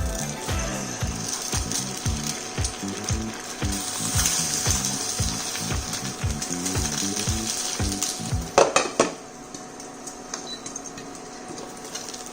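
A fried egg for bibimbap crackles in a pan beneath a loud, rhythmic mechanical ratcheting that clicks evenly for most of the clip, then stops with a few sharp clatters, leaving a quieter hiss.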